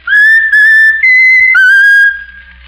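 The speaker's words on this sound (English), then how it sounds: "whistle your favorite tune" Raffles the talking mynah bird whistles a short tune loudly and up close, sounding clear pure notes in a few phrases that step up and down in pitch.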